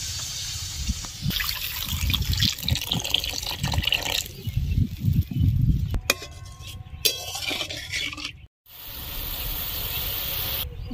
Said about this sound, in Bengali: এবার জল দিয়ে দিব, বেশি জল দেব না।